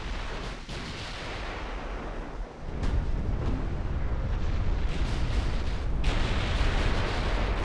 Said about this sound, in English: Main belt, ammo detonation.